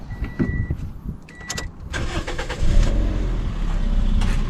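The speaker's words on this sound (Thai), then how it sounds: "เรามาฟังเสียงเครื่องยนต์นะครับว่าเป็นยังไงบ้างนะครับ" A few light clicks and rattles, then a 2013 Toyota Yaris 1.5-litre engine turns over and catches, settling into a steady, low idle that continues to the end.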